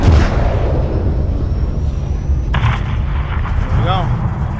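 Gunship strike levelling a hangar at night in Call of Duty: Modern Warfare 3, heard as a loud, sustained rumbling barrage of heavy fire with a brief sharper burst near the end.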